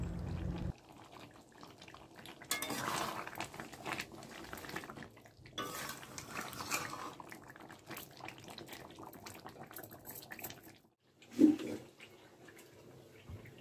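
Meat stir-fried in a pot, with repeated scraping and clanking of a utensil against the pot over a faint sizzle, close by with uneven bursts and a brief louder knock near the end.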